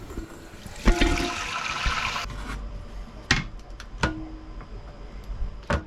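Trailer toilet flushing, a burst of rushing water that runs for about two seconds and then cuts off, followed by a few sharp clicks and knocks in a quiet room.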